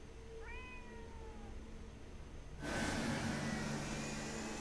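A cat meows once, a short rising-falling call, in the video game Ghostwire Tokyo, over a low ambient game background that swells into a louder, denser wash partway through.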